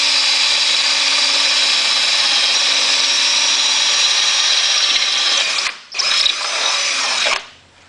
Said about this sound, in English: we're going to take our drill with our 5/16 drill bit